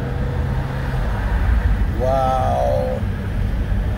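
A Toyota RAV4 with freshly changed automatic transmission fluid pulls away from a stop, its engine and road noise forming a steady rumble from inside the cabin as someone briefly exclaims.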